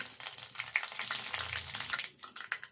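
Mustard seeds, cumin and dried red chillies fry in oil for a tempering, giving a quiet close crackle and spatter with quick popping bursts throughout and no talking.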